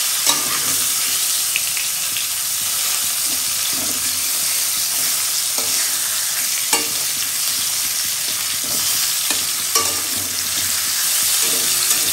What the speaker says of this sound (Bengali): এখন আপাতত মাছটা ভাজি